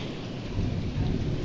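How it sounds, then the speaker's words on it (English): A thunderstorm pours steady, dense rain with a low rumble of thunder swelling underneath, heard from a garage during the storm; no one speaks. "The power in this tornado, I mean thunderstorm."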